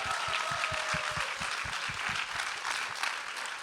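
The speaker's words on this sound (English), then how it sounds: "We really want to give a big round of applause to all the competing teams." A crowd at a business-track pitch competition for upper-secondary students claps steadily for the competing teams, a dense, sustained round of applause with no voices over it.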